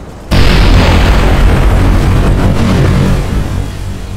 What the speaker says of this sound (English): because that's insane, the explosions.